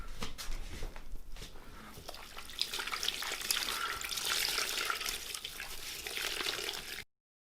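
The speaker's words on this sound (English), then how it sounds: "So I'm going to wring out the towels, and we'll see what the water looks like" Water being wrung out of microfiber towels by hand, a continuous splashing trickle and dribble into a sink or basin that swells in the middle and then stops abruptly.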